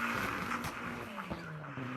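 Car tires squealing through a controlled burnout donut at a burnout competition, a steady high screech over a revving engine drone that holds a constant pitch with a few brief engine pulses.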